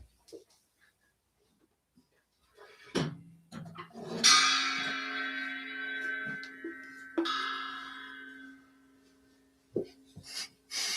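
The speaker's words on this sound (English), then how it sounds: "Can you hear my gong ringing when I hit a note like that?" A metal gong hums with a sustained ringing tone set off by a nearby singing voice, a steady resonant drone lasting several seconds after short knocks and rustles, fading before faint clicks.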